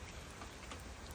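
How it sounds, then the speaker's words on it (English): Steady outdoor rain falls in a dense, even patter, a continuous wash of drops hitting surfaces with no voices or other sounds over it. "Yeah, it's raining out here."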